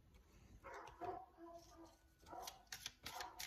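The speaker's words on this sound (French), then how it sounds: "Désolée pour les chiens qui aboient." Dogs bark and yip nearby in a house, a couple of them in bursts of sharp barks with a whimper, while someone talks over them.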